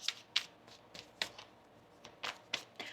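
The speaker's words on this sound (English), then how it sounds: "One more shuffle here, please, and thank you" Tarot cards being shuffled in a quiet room, several short dry riffling bursts spaced irregularly over about three seconds, faint and close, with no talking.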